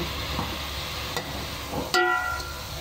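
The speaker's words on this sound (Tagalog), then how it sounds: "Piniprito ko dito sa kawali kung wala nang hawakan." Food fries in a pan on a wobbly stove, a close steady sizzle with light stirring scrapes and a sharper clatter near the end.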